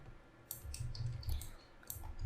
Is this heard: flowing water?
no